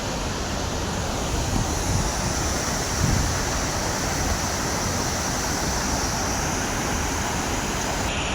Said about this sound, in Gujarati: અવાજ થોડોક ઓછો આવશે કારણ કે નદીનો અવાજ બહુ આવે છે